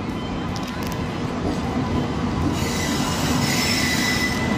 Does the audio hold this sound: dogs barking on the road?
no